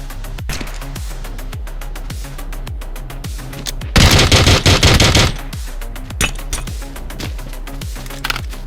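Rapid automatic gunfire in the battle royale game PUBG Battlegrounds, loud and close, with steady repeating shot bursts and a dense, heavier volley in the middle, with no talking.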